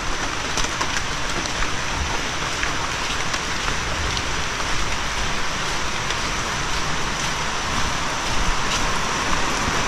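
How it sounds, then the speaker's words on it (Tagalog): Heavy rain pours steadily, a loud, even hiss of drops drumming on surfaces with no letup, at the waterfront where boat work has stopped. "Grabing ulan na naman to."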